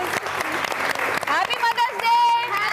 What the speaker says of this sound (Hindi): जन्नत के लिए भी बहुत सारी तालियां।